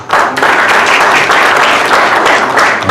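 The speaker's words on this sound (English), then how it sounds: "Let's give another round of applause to Prof." An audience at a finalists' dinner gives a round of applause for a professor, loud, close, continuous clapping filling the whole stretch.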